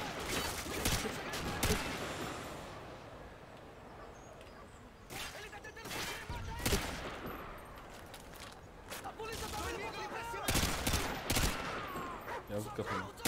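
Call of Duty Modern Warfare 2 gunfire crackles in repeated sharp bursts, loud and close, with someone talking excitedly between and over the shots.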